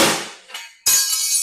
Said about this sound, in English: Give these a good old whack ski.